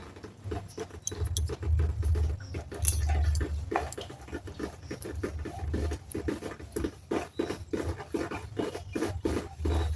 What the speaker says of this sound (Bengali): এবার আমি বেলে নেব।